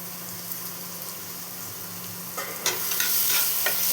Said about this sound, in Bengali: পেঁয়াজের সাথে টমেটোটাও ভেজে নিতে হবে